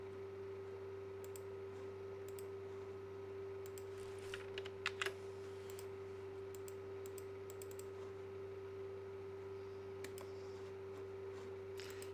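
Sparse, faint keystrokes on a computer keyboard tap out short bursts over a steady electrical hum, with no one speaking.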